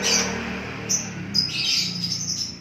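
A caged songbird gives repeated bright, high chirps and short trills, close and clear over a soft steady background hum.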